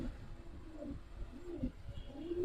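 Giribaz pigeons coo in soft, repeated low calls, several close throaty phrases rising and falling over a quiet background.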